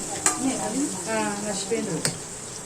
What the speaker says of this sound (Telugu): ఒక నాలుగు వెల్లుల్లిపాయలు తీసుకొని కచ్చపిచ్చగా దంచుకొని నేను పోపు లోపల వేసేసుకున్నాను